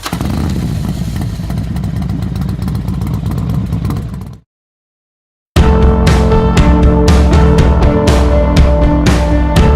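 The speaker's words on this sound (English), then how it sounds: "We call it motorcycles." A motorcycle engine roars loudly and steadily, cuts out to silence for about a second, then returns with sharp, clattering revs.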